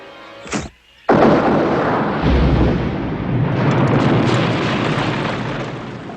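A movie explosion that defeats a monster: a short whoosh, then a sudden loud boom with a long, rumbling, roaring blast that sustains and slowly decays.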